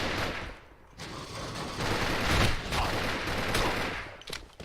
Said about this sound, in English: Did Zeter just shoot at Blasphemous?